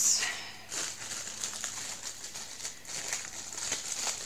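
A plastic bag crinkled and rustled during unpacking, soft irregular crackles throughout at low level, with no speech.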